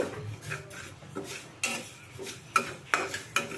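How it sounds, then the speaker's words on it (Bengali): Moong dal dry-roasts in a kadai over a low flame with quiet scraping and stirring, broken by several sharp metallic clinks of the spatula against the pan. "তো লো ফ্লেমে ডালটাকে আমি ভেজে নেব"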